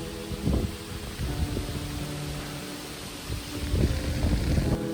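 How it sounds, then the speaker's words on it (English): Strong wind buffets the microphone outdoors in gusty, low rumbling bursts with a constant rushing hiss underneath. "This wind is absolutely doing me in."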